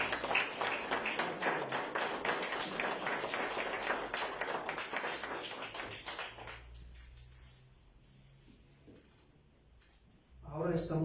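A burst of clapping from a church congregation lasting several seconds, then fading into quiet with a few scattered claps at the end.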